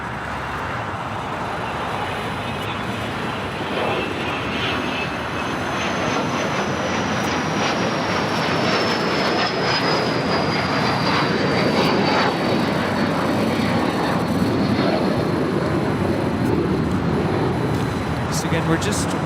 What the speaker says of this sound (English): awaiting an aircraft arrival, a commercial freight aircraft with a possible aircraft system concern